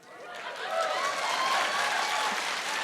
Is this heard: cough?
no